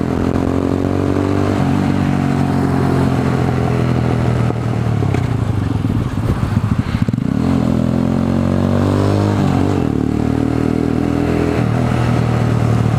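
A Venom X22 motorcycle fitted with an aftermarket exhaust idles and revs up several times, a loud, steady, close engine drone that climbs and settles with each blip of the throttle, with no one speaking.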